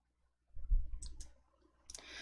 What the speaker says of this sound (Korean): 더블 클릭